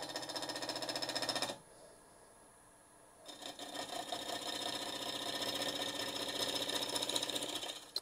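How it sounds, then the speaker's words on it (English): A wood lathe turning a piece for a paper towel holder while a bowl gouge cuts it, giving a loud rough buzzing that stops briefly and then resumes steady and close. "we're just going to take this bowl gouge, put it on our hip, and we're just going to just kind of get it round"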